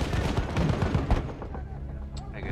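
Mortar and artillery fire in Battlefield 1, with a dense rumbling barrage of booms and gunfire that fades into a quieter battle background.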